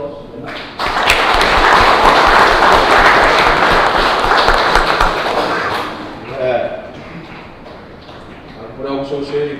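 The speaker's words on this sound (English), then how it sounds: "give him a round of applause" A courtroom crowd applauds the Chief Justice with a loud, dense burst of clapping that runs several seconds and then fades. Voices and shuffling follow toward the end.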